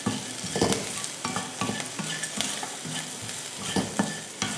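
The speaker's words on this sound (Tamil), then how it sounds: "தேங்காய் போட்டு கொஞ்சம் லைட்டாக மட்டும் வதக்கி விட்டுக்கோங்க, போதும்." Onion and grated coconut with a pinch of salt being sautéed in a pan for chutney, with dense close sizzling and repeated rhythmic spatula scrapes and taps throughout.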